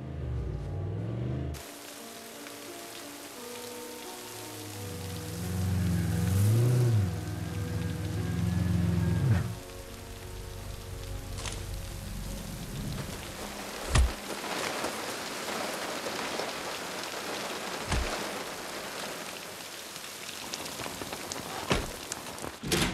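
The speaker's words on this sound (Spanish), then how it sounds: "¿cuándo para de llover aquí?" Steady rain pours down on surfaces, a dense even hiss of drops that fills the scene, with a few sharp louder impacts breaking through in the later half.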